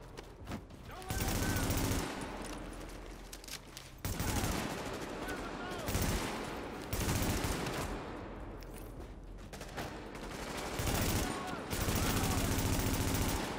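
Sustained turret gunfire in the shooter game The Division, loud and continuous in long rattling bursts with brief gaps between them, with a voice talking faintly underneath.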